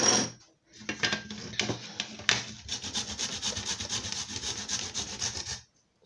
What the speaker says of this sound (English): So you grate 3 tablespoons of ginger.